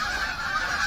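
Canada geese honk in a continuous, loud, close squawking chorus, alone with no talk.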